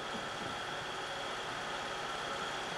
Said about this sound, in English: Comes the train load out.